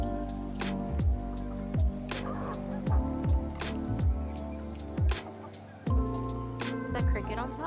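Homestead chickens clucking and calling in short bursts near and far, mixed with steady outdoor background sound while a person talks over them.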